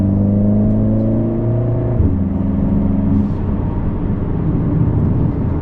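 The engine of a 2025 Mercedes-AMG CLA 45 S revs in race mode, a loud, steady hum with tonal harmonics that shift and drop partway through, then settle into a broad rumble.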